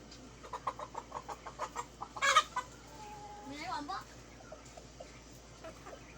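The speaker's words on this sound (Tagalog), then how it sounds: "Ang dami po ng kalapati" Pigeons in a loft coo and flutter nearby in a rhythmic series of soft calls, with a brief burst of wing flapping and faint voices talking in the background.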